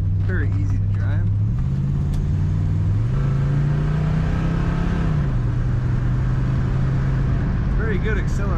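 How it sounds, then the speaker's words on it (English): Engine of a red 1969 Buick Skylark Custom convertible with automatic column shift accelerates steadily on the road, a loud continuous rumble stepping up in pitch through gear changes, with someone talking over it. "Very good acceleration from this engine."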